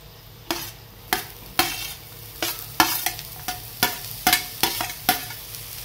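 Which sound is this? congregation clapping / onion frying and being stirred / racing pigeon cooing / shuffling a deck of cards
onion frying and being stirred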